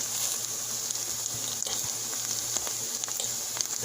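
Ripe plantains fry in a pan for a Jamaican-style breakfast, producing a continuous close sizzle with small crackles and pops and no speech.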